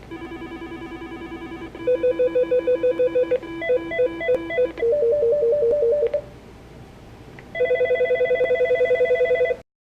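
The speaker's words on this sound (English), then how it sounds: "I'll press the down arrow to cycle through the ringtone choices." A Mitel 6731i desk phone plays a series of different electronic ringtones one after another, each a short repeating chirping melody, clear and close with brief pauses between.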